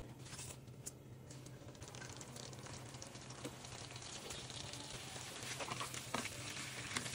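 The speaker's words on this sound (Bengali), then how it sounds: "তেলটা গরম হয়ে গিয়েছে, এখন আমি এখানে মাছগুলোকে দিয়ে দিচ্ছি।" Prawns frying in hot soybean oil, a soft, continuous sizzle with faint crackles that builds slightly toward the end, quiet and without talking.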